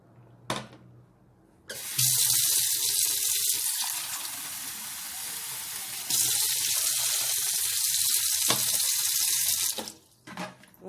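Water pours from a tap onto freshly cut coconut being prepared for homemade coconut oil, a loud steady rushing splash in two long runs with a brief pause between, bracketed by quieter clinks.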